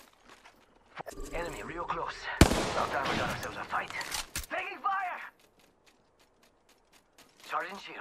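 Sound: gunfire in the video game Apex Legends

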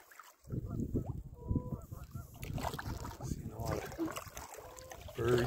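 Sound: birds calling on a lake

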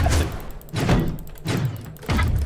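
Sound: cannon firing in a video game

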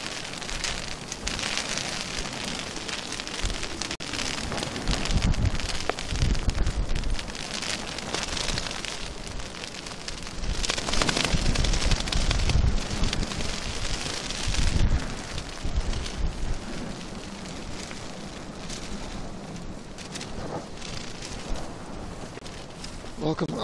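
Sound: rain shower

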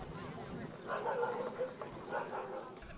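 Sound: dogs barking at a dog show

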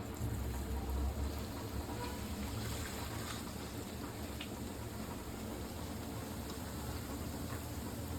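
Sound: hot oil poured over pickle spices for tempering

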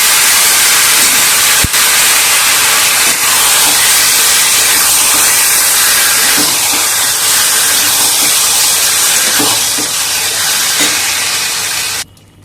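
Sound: frying marinated ash gourd in a pan

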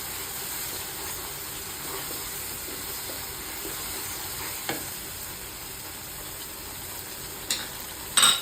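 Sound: sautéing chicken with fenugreek spice paste

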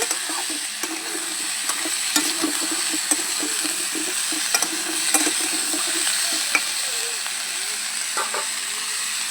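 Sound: mixed vegetables sautéing with salt in a pan

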